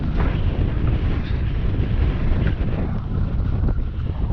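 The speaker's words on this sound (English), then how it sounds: "you just feel the wind as soon as you move out of the shelter" Strong wind buffets the microphone on an exposed fell-side hillside near a bivy camp on Skiddaw, a loud, steady roar with constant rumbling gusts and no voices.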